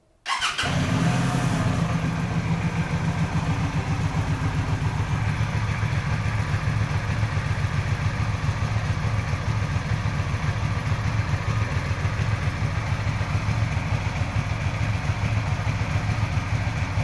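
A Keeway Benda V252C motorcycle starts and then idles steadily with a deep, close, loud engine throb and a faint high whine, running alone and unbroken for about sixteen seconds.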